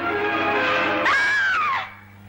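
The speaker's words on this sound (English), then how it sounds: "with my scream, I heard other screams echoing from the farthest end of the palace." A loud, sustained scream in a sword-and-sandal Hercules film, one long anguished cry that bends upward then falls away over about two seconds, with reverberant room echo trailing behind.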